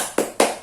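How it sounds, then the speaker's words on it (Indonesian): Two crisp, close hand claps from a group doing a rhythmic spirit clap during an Indonesian training session, evenly spaced and distinct against a quiet room. "Coba tepuk semangat lagi, sekali lagi."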